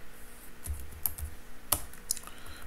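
Code is typed on a computer keyboard: a short run of soft, scattered key clicks with a few sharper taps, close and quiet, with no talking.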